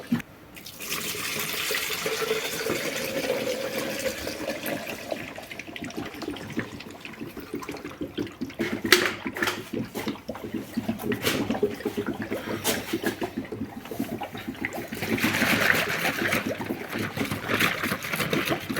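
A 50/50 mix of distilled water and coolant is poured into the cooling system of a Fiat 1.9 or 2.4 JTD diesel engine, making a continuous gurgling, splashing flow with some brief clunks partway through.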